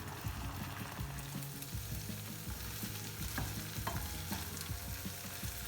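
Chicken macaroni cooks in a pan over a high flame, a steady close sizzle and bubbling with occasional stirring clinks, no voices.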